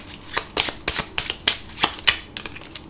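Tarot cards being shuffled by hand, a quick series of close, crisp riffling snaps and slides in uneven bursts, with no talking.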